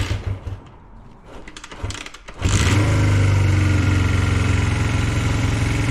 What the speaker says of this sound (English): The idle is still high, but it's running